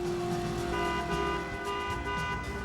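Car in a PS1 video game steadily driving with a continuous engine drone under layered tonal game sounds, loud and close with no talk.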